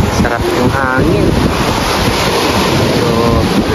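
Strong wind roars steadily across the microphone on the Zambales coast, Philippines, with rushing surf and faint voices blended into the constant gusting noise.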